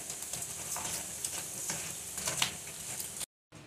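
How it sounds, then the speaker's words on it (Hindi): Papad frying in hot oil, a fizzing sizzle with light stirring scrapes and faint ticks that cuts off abruptly near the end, no voices. "पापड़ भी फ्राई हो गए"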